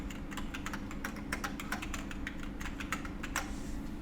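Sign-up details typed on a computer keyboard: a name, email and password going in as quick, close, light clicks in irregular bursts, with a faint steady hum beneath.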